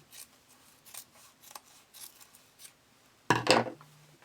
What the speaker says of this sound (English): I like to trim back this excess fabric